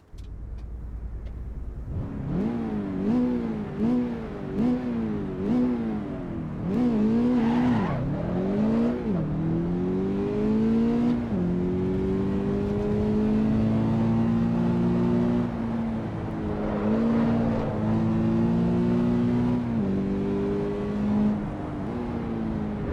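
Toyota GR86 engine in Assetto Corsa EVO, revving hard and rising through repeated gear changes with steady loud engine tone over about twenty seconds, occasional tire squeal, no talk.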